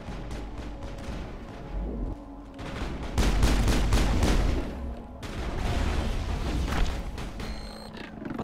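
Repeated gunfire and booming shots fill a firefight in the video game Mass Effect 1, with bursts of rapid fire and heavier blasts rising and falling across the stretch, fairly loud throughout.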